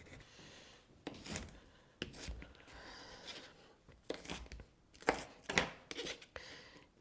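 Red onion, garlic and peppers are roughly chopped with a knife on a cutting board, giving irregular crisp thuds and crunchy cuts in short bursts, close by and with no talking.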